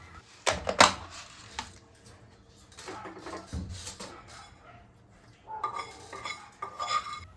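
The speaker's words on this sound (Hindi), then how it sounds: "पहले वाले बैच के साथ मैं इसको मिक्स करके रख दे रही हूँ।" Roasted neem flowers being stirred into an earlier batch in a container, with clinking spoon and vessel scrapes in irregular close bursts, quiet pauses between them, then a busier stretch of rattling near the end.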